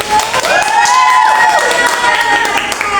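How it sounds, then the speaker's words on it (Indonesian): Primary school class clapping hands in a classroom, a busy patter of applause mixed with children's voices and a sustained high-pitched voice or cheer. "Beri tepuk tangan buat yang udah maju."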